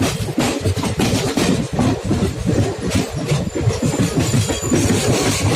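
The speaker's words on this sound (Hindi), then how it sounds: "ये हमारी रानीखेत एक्सप्रेस।" The Ranikhet Express, an Indian passenger train bound for Kathgodam, rolls past close by near Gurgaon, its wheels beating a steady loud clickety-clack rhythm over the rail joints under a continuous rumble.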